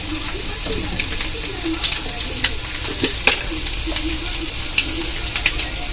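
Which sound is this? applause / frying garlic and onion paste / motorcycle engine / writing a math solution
frying garlic and onion paste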